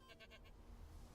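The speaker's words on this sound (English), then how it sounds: "Hi, are you a girl goat?" A goat bleats in the Gliders & Gales update of the video game Aloft, several short repeated bleats close by over a low steady background hum, with no talk.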